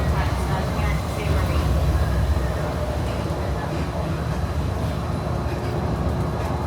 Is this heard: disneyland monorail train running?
yes